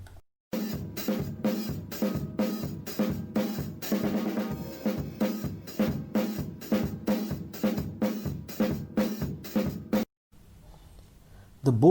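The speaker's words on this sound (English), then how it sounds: "Now let us listen to the calypso." A calypso-style percussion rhythm plays as a dense, bouncy pattern of drum hits for about ten seconds, then stops and leaves faint background noise.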